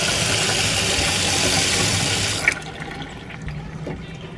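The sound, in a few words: running water in 1960 Chevrolet RV motorhome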